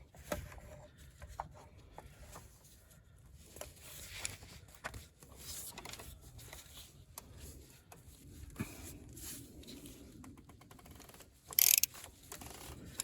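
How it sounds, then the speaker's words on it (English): Quiet, close ratcheting clicks come in short bursts as a socket wrench tightens the oil filter housing on a 2014 Opel Corsa D 1.4, with faint clanks of metal in between. "Now we have to get the ratchet and tighten a bit further."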